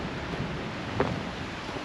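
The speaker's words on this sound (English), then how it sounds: "right out behind these sites is the creek coming down" Mountain creek flowing behind campsites at a North Carolina campground, an even broadband wash of running water holding steady throughout, with one brief sharp tick partway through.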